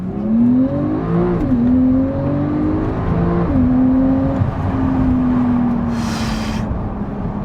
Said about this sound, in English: So I'm gonna put it in Sport Plus mode, and PDCC, all that stuff, the spoiler starts engaging, and let's go.